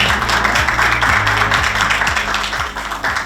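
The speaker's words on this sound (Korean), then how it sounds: "박수로 축하드립니다." An audience at a local government policy award ceremony claps steadily, a full, even wash of applause over a low hum from the room's sound system.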